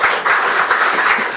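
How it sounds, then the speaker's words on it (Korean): A church congregation at a Korean Sunday worship service applauds the choir with a brief, dense burst of clapping. "우리 찬양대 한번 격려하는 박수 한번 하겠습니다."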